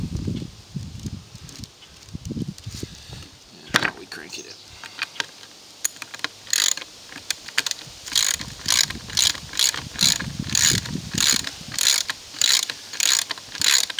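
A ratchet clicks in quick repeated bursts while torquing a T-nut sleeve and bolt together during module alignment construction, loud and close, with brief talk and handling knocks early on.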